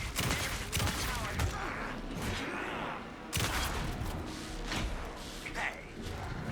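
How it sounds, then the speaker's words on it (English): Gunfire rattles in the video game Alan Wake 2, with repeated shots and bursts thumping close and loud in clusters across a few seconds, layered with dense game ambience and rumble. "Anderson, pin him down with gunfire for me to get the light on him."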